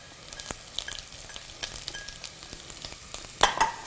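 Carrots and vegetables for minestrone soup sizzle and crackle in a pot, with scattered pops and a louder burst of spitting near the end as they are stirred.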